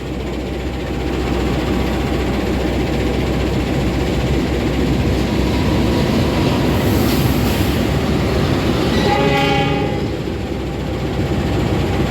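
An Argo Cirebon passenger train rumbles into a station with a steady, loud, close roar, and a horn blast cuts in near the end, with no talking.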